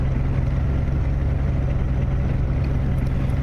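A light aircraft's piston engine idles steadily at about 1,000 RPM just after start, a loud, constant low rumble heard close up from the cockpit.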